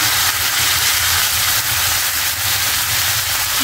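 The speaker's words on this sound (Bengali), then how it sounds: "এই যে মাছের তেলের মধ্যে জিরাটি দিয়ে দেবো, তরকারি রান্না করবো।" Vegetables, salt and cumin seeds sizzle steadily in hot fish oil in a home kitchen, a loud, continuous close-up hiss that never lets up.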